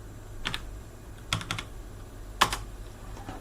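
Keys on a computer keyboard are struck at a terminal in a few separated bursts: a quick click, a cluster of taps, then a sharper final keystroke, close and alone against a quiet background.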